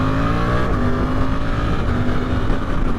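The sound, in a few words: Suzuki GSX-8R motorcycle engine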